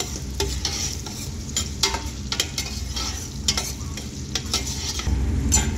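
Mixed vegetables sizzling in a hot pan while being stirred, a steady crackling fry broken by repeated close scrapes and clacks of the spoon against the pan.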